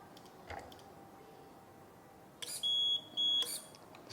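The pressure alarm on a 1/14-scale KCK RC hydraulic reach stacker, a TEREX TFC45 container handler model, gives two sustained electronic beeps in quick succession over a quiet hum of background noise.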